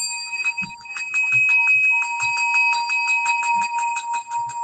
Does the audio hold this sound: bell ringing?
yes